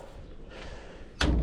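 A door or gate on a misty mountain trail at Sanctuary Mountain Maungatautari, New Zealand, shuts with one sudden loud thud at the end. Before it comes a stretch of outdoor rustle and breath noise, with no talking.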